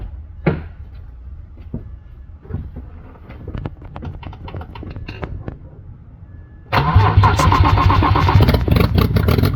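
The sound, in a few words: BMW 3 Series engine cranking after turbo install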